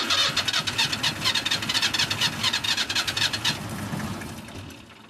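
A car engine cranks in freezing weather around 26–27°F, with a rapid, rhythmic starter churn for several seconds that fades into a rougher, steadier mechanical rumble, loud and close with no voices.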